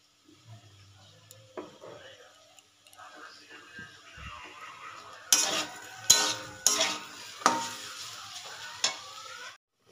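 Potatoes and taro fry with a little sugar in a blackened wok, a soft sizzle under repeated metal stirring clatters and scrapes that grow louder toward the end, with faint talk early on.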